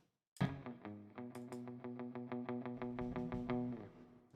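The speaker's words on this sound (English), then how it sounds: "That sounds like surf rock." An electric guitar tremolo-picks one sustained note in fast, even repetitions with a wobbling, effected surf rock tone, loud and alone.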